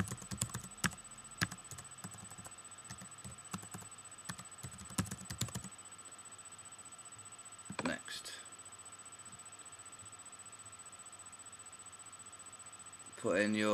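Account details are keyed into a computer keyboard while setting up Parallels Desktop on a Mac: quick, uneven clicking bursts for about six seconds, then near silence broken by a couple of brief soft noises.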